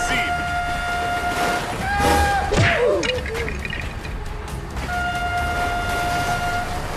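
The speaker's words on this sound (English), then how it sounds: "Oh my god, train!" A cartoon train rumbles past and sounds its horn with sustained tonal blasts, loud and close, over a busy animated soundtrack with excited voices.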